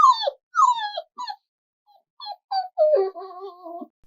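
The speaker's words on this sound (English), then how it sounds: "The other feedback is through the sound Robopet is able to make when it is being mistreated" A robot dog modeled on a Golden Retriever gives a series of high, plaintive electronic whimpers and yelps, about eight short cries in uneven bursts, close and clear with no other sound.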